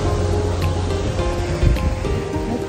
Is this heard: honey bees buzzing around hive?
no